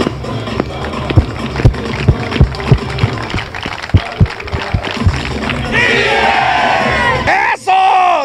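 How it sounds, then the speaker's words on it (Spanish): Baseball crowd at the Beto Ávila stadium cheering for the Tigres, with scattered claps and shouts building into a sustained loud roar of yelling near the end. "Vamos a hacer los que aplaudan y después que griten Tigres."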